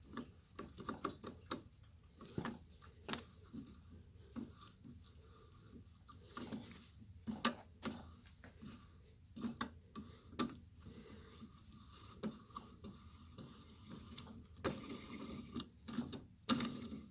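Threads being cut by hand on a pipe, a faint, quiet series of irregular ticking and clicking strokes that repeat throughout against near silence.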